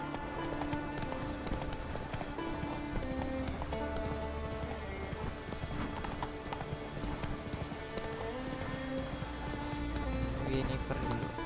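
Roach, a horse in The Witcher 3: Wild Hunt, gallops with steady rhythmic clip-clop hoofbeats and an occasional whinny, set against a dense, continuous game music score.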